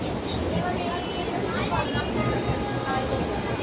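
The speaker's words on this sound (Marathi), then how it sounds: "ट्रेनमध्ये बसलोय" A steady low rumble and rattle from inside a moving train bound for Borivali, with people talking over the constant roar.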